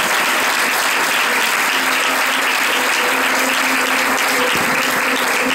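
A church congregation applauds, a loud, sustained and dense wash of clapping that carries on without a break.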